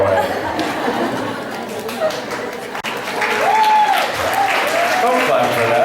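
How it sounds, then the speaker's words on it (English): Audience clapping and chatter at a panel session, a steady wash of applause mixed with crowd murmur and some laughter, with voices over it. "Don't clap for that."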